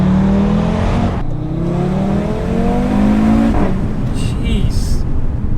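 An Audi RS3 with its turbocharged five-cylinder pulls hard up through the revs, the engine note climbing steadily across two gear changes, loud and close, with a brief lift between pulls.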